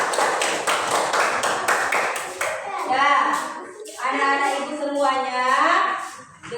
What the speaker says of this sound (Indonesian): beri tepuk tangan untuk Kak Habibah